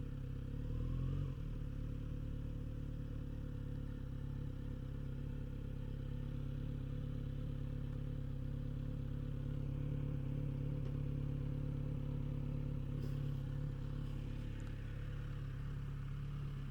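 A Kawasaki Z900 RS motorcycle engine idles steadily nearby, a continuous even rumble with a slight rev blip near the start and no talking.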